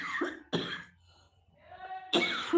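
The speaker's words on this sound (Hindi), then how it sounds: "वो खाँसी हो रही थी थोड़ी-सी" A woman's coughs come in two short, harsh bursts, then a pause and a third cough, close and alone with no speech.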